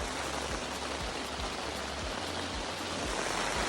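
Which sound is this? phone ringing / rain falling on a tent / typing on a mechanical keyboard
rain falling on a tent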